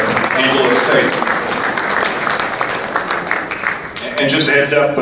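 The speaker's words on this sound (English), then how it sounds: "let's give another round of applause to Angelo State" A banquet audience applauds the Angelo State baseball team at a conference championship dinner, with dense, lively clapping throughout and a brief dip before it swells again, voices faintly mixed in.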